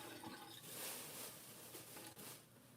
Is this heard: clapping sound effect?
no